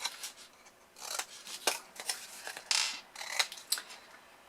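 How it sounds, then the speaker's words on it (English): Scissors snip close by in quick, uneven bursts as they cut wedges off the corners of a paper gift box. Crisp clicks and rustles of paper come through in a quiet setting. "And then just cut again the wedges off the sides of the 4 corners there."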